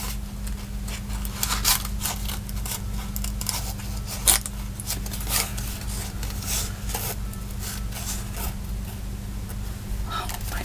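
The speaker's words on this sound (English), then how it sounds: "see if we can cut him out a little bit" Scissors snipping around a printed paper image for a Christmas shaker card, a steady run of small close cuts and paper rustles over a low background hum.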